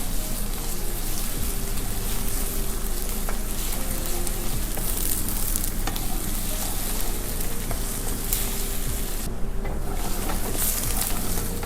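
Ginger garlic paste fries in a pan for egg bhurji, giving a constant broad hissing sizzle over a low rumble, with occasional faint stirring clicks, steady throughout and close, no speech.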